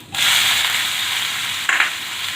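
Cumin seeds dropped into hot oil for an Uttar Pradesh-style spiced bottle gourd and urad badi curry, with onion to follow. A loud, close sizzle starts abruptly and holds steady, flaring briefly near the end.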